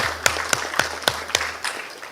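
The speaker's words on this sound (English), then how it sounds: "Let's give him a bigger round of applause." An audience at a programmatic advertising summit applauds a regional director: a steady run of crisp, evenly spaced claps, moderately loud over a low hum, thinning out toward the end.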